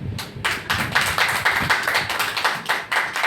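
A congregation at a Sunday Hindi church sermon claps together in a loose, pulsing rhythm, fairly close and steady for a few seconds with no voices over it.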